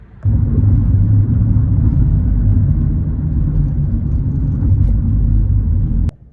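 A car travels along a road, its steady low engine and tire rumble filling the cabin continuously for about six seconds before cutting off abruptly, with no talking.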